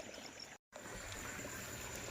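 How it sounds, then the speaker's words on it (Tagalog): Water flowing out of a backyard concrete catfish pond as it is drained, a steady, continuous rushing trickle close by with one brief dropout. "nagpapakawala na tayo ng tubig"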